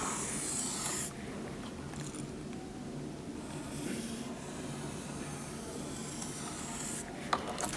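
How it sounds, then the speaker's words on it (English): A pen scratching across paper while drawing a structural diagram, soft close scribbling strokes in bursts with brief pauses, faint and alone. "I am drawing a structure"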